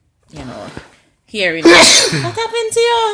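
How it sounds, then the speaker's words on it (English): A single loud sneeze up close, following a brief earlier voice, with people talking before and after it. "You sneeze again?"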